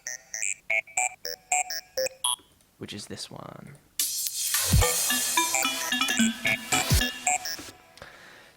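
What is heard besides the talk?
randomised synth arpeggio sound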